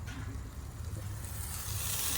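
Lentils cooking in water on a hot tawa give off a steady, close sizzle and bubbling that grows a little louder toward the end, with someone talking over it.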